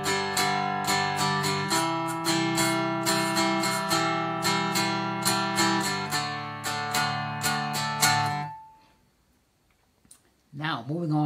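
Cigar box guitar strummed through one measure of a G-based chord progression, with rhythmic, bright, ringing chords repeating close up for about eight seconds before fading to near silence, then a voice starts speaking.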